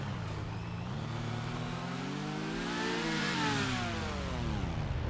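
Motorbike engine in a GTA V Online offroad race on Mount Chiliad revs up in rising and falling waves, a close, steady buzzing whine that climbs in pitch and then eases back.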